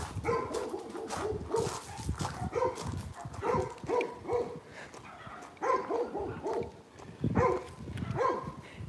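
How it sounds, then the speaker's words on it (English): A dog barks and yips repeatedly in short, uneven bursts nearby, with whimpering sounds mixed between the barks. "Who are you barking at?"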